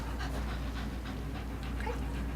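A dog pants steadily and close by through the whole stretch, quick rhythmic breaths over a low constant hum of a studio or indoor setting.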